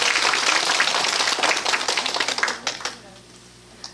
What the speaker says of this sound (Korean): 다시 한번 우리 곤충 전문가 네 분께 박수 부탁드리도록 하겠습니다